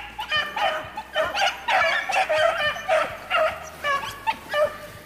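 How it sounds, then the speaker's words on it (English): Hunting dogs on a swamp rabbit hunt bark and yip excitedly in rapid, repeated bursts, loud and fairly close, with no clear talk. "Here comes the dogs."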